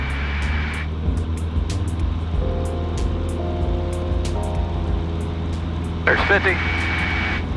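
A Cessna 150L engine runs at full takeoff power in a steady, loud droning hum heard from inside the cockpit, with a short spoken remark over the engine noise.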